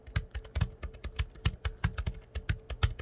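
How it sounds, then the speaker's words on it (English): Quick, steady keystrokes on a sleek Bluetooth keyboard, each tap a light, close click in an even typing rhythm, with no voices. "there is not a lot of thonk in this keyboard"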